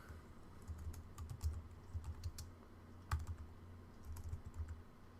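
Quiet, irregular keystrokes as a code comment is typed on a computer keyboard, with light clicks in short runs and one sharper tap, and no talking.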